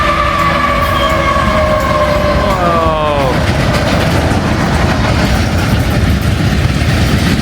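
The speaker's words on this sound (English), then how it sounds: "I do hear a train coming." A train passes close by along a railroad, loud and continuous, with a rising then falling horn-like tone early on that gives way to a heavy, broad rumble of cars rolling past.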